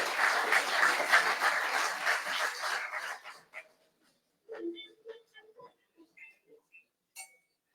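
An award-ceremony audience breaks into loud, sustained applause for about three seconds, which fades out before a voice begins speaking alone at moderate volume.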